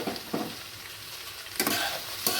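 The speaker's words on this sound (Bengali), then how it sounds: "দিয়ে ভালো করে 2-3 মিনিট ধরে নাড়াচাড়া করে নেব" Grated coconut stirred into a snake gourd curry in a pan, with a few scraping spoon strokes against the metal over a soft background sizzle. No one speaks.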